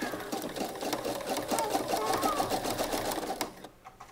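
A sewing machine runs steadily while stitching stretched elastic, its rapid mechanical whir continuous for about three and a half seconds before stopping abruptly.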